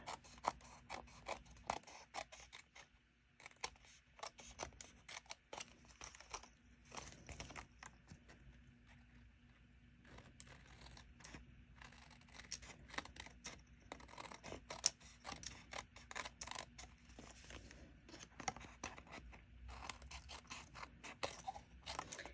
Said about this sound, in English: take your pair of paper snips, and you just trim all these pieces off